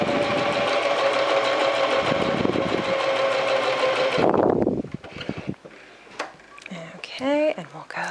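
A sewing machine stitches a long straight seam on a basic skirt, whirring continuously and loudly for about four seconds before stopping, followed by soft handling noises and brief talk.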